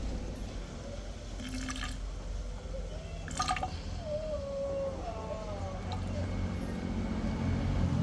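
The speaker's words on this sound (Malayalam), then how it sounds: "ഞാൻ 10 ml വെള്ളം ഒഴിക്കുകയാണ്" Water, about 10 ml, being poured into a sample of petrol, heard as a few small drips and trickling splashes over steady background noise, fairly close.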